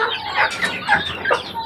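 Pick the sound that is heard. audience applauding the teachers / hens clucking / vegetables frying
hens clucking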